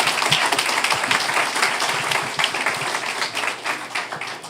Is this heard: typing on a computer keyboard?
no